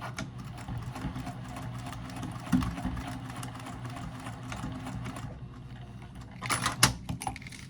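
A sewing machine runs steadily stitching a quarter-inch seam on a zippered pouch, a fast continuous mechanical whir with a few brief clicks near the end.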